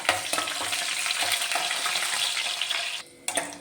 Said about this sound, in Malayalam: ഇനി അതിലേക്ക് ഒരു രണ്ട് കറിവേപ്പില ഇടാം ആ കൂടെ തന്നെ ഒരു നാല് വറ്റൻമുളകും കൂടി ഇട്ടൊന്ന് മൂപ്പിച്ചെടുക്കാം